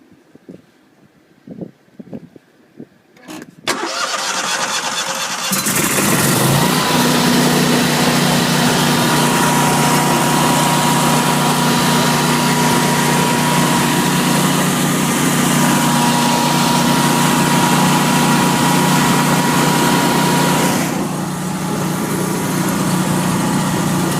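A few faint clicks, then a 20 kW Briggs & Stratton whole-house standby generator engine starts and settles into a loud, steady running drone with a constant hum, continuing without letup.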